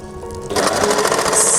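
Sewing machine stitching shade cloth in a circle at a short stitch length, starting up after a brief hum and running in a fast, steady close whir.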